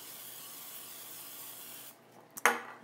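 Olive oil spray mists steadily over a creamy casserole, a close, continuous hiss lasting about two seconds before cutting off, followed by a quick knock and a short clatter.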